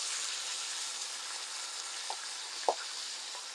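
Thick pork steaks fry in butter in a pan with a steady, dense sizzle. A couple of faint pops and stirring clicks rise briefly above it.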